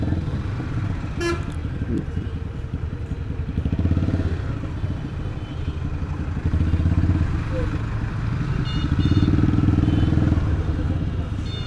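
Motorcycle ride on a road from Chittagong toward Khagrachhari, a steady engine drone and road rumble with a few horn toots and a voice now and then.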